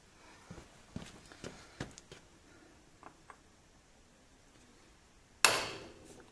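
A hammer lightly taps a mark onto a Yamaha MT07 motorcycle chain while a new chain kit is fitted. Several soft, close taps are followed by one sharp, louder metallic strike that rings out briefly.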